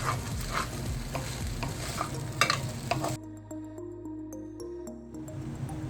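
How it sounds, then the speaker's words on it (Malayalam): Vermicelli is stirred into heated grated coconut in a pan for semiya upma, with dry scraping and gentle sizzling up close for about three seconds; then a quieter stretch follows with faint tones and a light clink or two. "ഇനി നമുക്ക് സേമിയ ഇട്ട് കൊടുക്കാം. ഇതൊന്ന് നന്നായിട്ട് മിക്സ് ചെയ്യാം."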